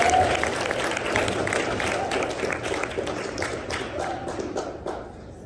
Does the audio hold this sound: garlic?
no